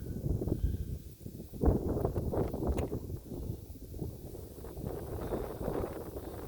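Gusty wind roars steadily outdoors as a cold front brings light, sideways snow, a continuous rushing buffet against the microphone with occasional stronger gusts and no voices.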